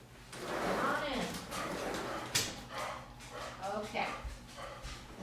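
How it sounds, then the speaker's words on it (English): A dog barks and whimpers nearby in a home, giving yips and whines over a steady background hum while a person speaks briefly. "Gotta let my dog back in."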